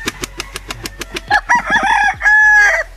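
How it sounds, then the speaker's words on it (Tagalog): A young gamecock stag crows nearby and loudly, a drawn-out call that follows a run of evenly spaced short clucks or steps, with no talking. "Tumilaok na yung stag natin."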